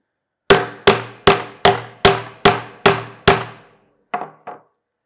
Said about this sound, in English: I'm going to tap this side down a little bit more so that they're closer to even